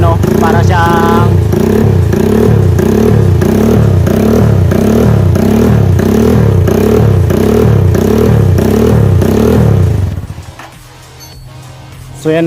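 Up close, a Rusi TC motorcycle with a homemade idle rumble modification idles in a heavy, rhythmic lope, each uneven pulse repeating steadily, before the engine noise drops away near the end.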